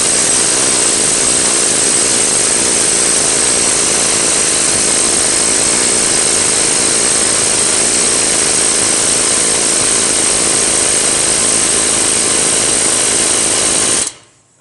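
An impact gun hammers at a rusted, stuck driveshaft on a 2003 Yukon, giving a loud, continuous rattling buzz for about fourteen seconds before cutting off abruptly.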